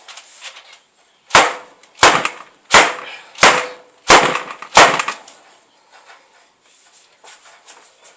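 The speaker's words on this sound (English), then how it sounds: "Again, I'm going to bang it down." A soap mould full of orange blossom soap is banged down on a hard surface six times in a fairly even rhythm, each a sharp, loud, close knock. Softer shuffling handling sounds follow.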